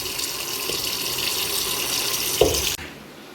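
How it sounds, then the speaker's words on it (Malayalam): Water runs steadily from a kitchen tap while mutton is rinsed clean in the sink, a continuous close splashing stream that cuts off abruptly near the end. "നല്ല വൃത്തിയായിട്ട് മട്ടൺ നമുക്കൊന്ന് കഴുകി എടുക്കണം"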